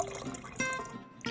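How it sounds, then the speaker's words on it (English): Water is poured into a blender with pancake batter ingredients, a faint, brief trickle and splash with small drips, heard without talk. "splash of water,"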